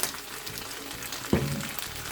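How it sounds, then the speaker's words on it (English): Gyoza dumplings sizzle softly in a hot pan with sesame oil, a quiet steady crackle with one brief clunk partway through. "I'm going to fry them a little bit longer so they can form a nice crust under"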